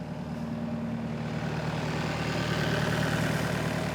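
A Case skid steer's engine runs steadily at the rear of the machine, a loud, even low rumble with a constant hum and no talking.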